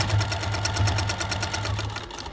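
A sewing machine stitches the binding on a fabric potholder, giving a fast, even run of mechanical clicks over a low motor hum, close and steady, slowing slightly near the end.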